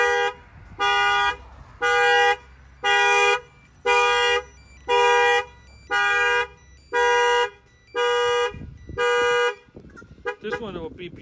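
A car alarm on a 2021 Toyota Tacoma sounds nine loud, evenly spaced horn-like beeps close by, followed by faint talking and rustling as it stops.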